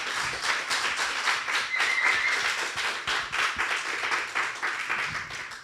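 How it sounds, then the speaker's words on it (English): An evening talk-show audience claps and applauds steadily, a dense patter of many hands at moderate volume with no voices over it. "if everyone could give us a round of applause here for their attendance tonight"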